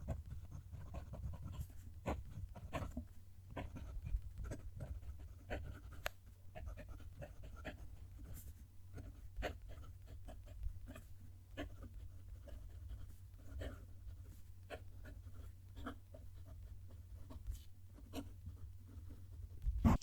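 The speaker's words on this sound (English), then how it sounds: "Going to move the mic down to the page and write a sentence." A Leonardo Momento fountain pen writes a sentence on paper, its nib scratching close to the mic in short strokes and pauses over a steady low hum.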